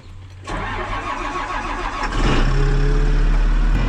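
A Case IH MX285 tractor diesel engine cranks and fires, then settles into a loud, steady idle close by, with a second rise as it catches and holds.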